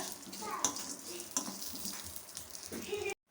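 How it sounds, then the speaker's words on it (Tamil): Lentils and dried red chilies roast in a pan over a medium flame for a rava tomato tiffin, giving a soft, steady crackle and sizzle with light scraping, quiet and close. "இப்போ இது எல்லாத்தையும் சேர்த்துட்டு நம்ம வந்து நல்லா வறுத்துக்கலாம் அந்த பருப்பு எல்லாமே நல்லா வறுபடும்"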